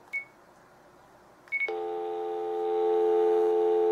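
A couple of short keypad beeps on a cordless home phone, then a steady electronic dial tone that holds on, close and clear.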